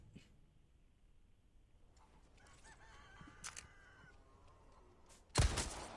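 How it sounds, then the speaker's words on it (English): Hens cluck and crow in the video game Resident Evil 4, a few faint calls over quiet ambience, then a loud sharp burst near the end. "Oh, why are you shooting the hens?"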